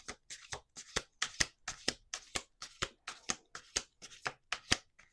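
Cards are riffled and bridged in a quick, repeated shuffle, a crisp rhythmic flutter of short bursts, close and fairly quiet.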